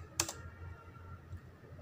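Brief clatter of typing on a computer keyboard in a classroom computer lesson, a quick burst of key clicks early on, then faint room noise.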